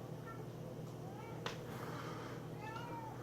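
An indoor cat meows a few times, short plaintive calls spread across the moment over a steady background hum, with one sharp click near the middle.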